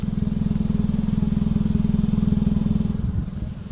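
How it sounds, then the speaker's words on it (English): Low, rhythmic exhaust rumble of a 2018 Hyundai Elantra Sport with a manual gearbox, idling steadily and heard from inside the car, easing slightly near the end. "You obviously can hear the nice rumble of the exhaust from"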